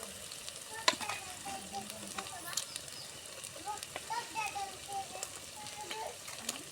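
Large fish pieces dropped into a pan of softened onions for a village-style fish curry give off a quiet, soft sizzle with occasional stirring taps, while someone speaks over it.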